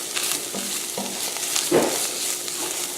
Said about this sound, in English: you're going to put the packet of the ranch in there and get it all well combined